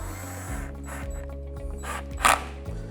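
Screws are tightened into lazy Susan cabinet hardware with a humming driver that steps through short, repeated pulses, close by and with a brief clack near the end.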